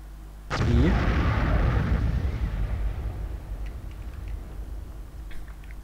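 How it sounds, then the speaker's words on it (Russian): A sudden loud explosion booms in the video game Evoland 2, then a long rumbling decay with scattered crackles and debris as the roar fades. "Какой-то взрыв."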